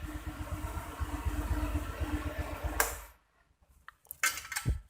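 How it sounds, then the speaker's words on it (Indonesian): Stock exhaust of a Honda Vario 125 scooter engine idling: a steady, close, low putter that cuts off abruptly, followed by a few sharp metallic clanks. "tahu suara standarnya Vario ya kayak gini nih ya"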